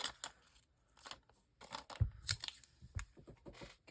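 Scissors cutting down a book page, with a series of soft snips, paper rustles and crinkles, quiet and close.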